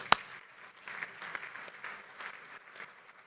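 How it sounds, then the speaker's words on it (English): Scattered, fairly faint applause from an audience at a hotel industry luncheon plenary session honoring a sponsor, opening with one sharp clap and continuing as a soft, uneven patter. "Give them a round of applause if you don't mind."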